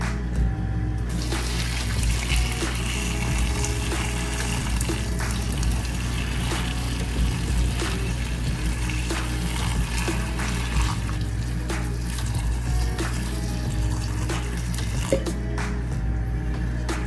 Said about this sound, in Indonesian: Ini kemudian air panas.